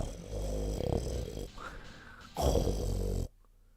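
A voice imitates an extremely loud snore, producing long, rough, rasping snorts that grow harsh and intense before cutting off abruptly into near silence.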